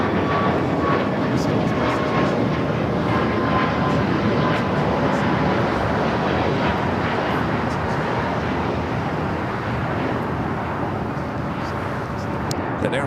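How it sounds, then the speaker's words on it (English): Boeing 737 MAX 8 taking off from LAX, its jet engines a loud, steady roar that holds for the whole stretch, with radio chatter and a voice talking over it. "A flight taken off, heading to Vegas, flight 2002 at 737 to MAX 8"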